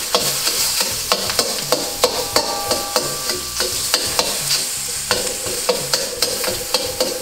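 A utensil chops salted egg in a wok, landing sharp, regular knocks roughly twice a second over a continuous background sizzle of frying, with no voices.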